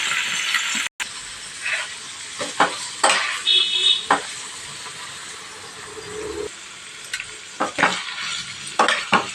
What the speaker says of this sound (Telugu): పన్నీర్ పీసెస్ ఫ్రై చేసుకోవాలి